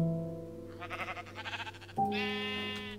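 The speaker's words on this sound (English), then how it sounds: "Stupid sheep." Sheep in the Minecraft video game bleat twice, two close, wavering synthetic baas heard alone over a steady background drone.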